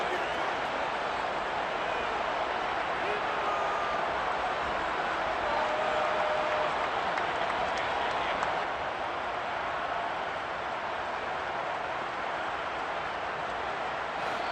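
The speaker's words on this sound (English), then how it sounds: "the crowd getting into it" Stadium crowd in Madden NFL 23 roars continuously as a dense, steady wash of cheering, loud and unbroken throughout with no pauses.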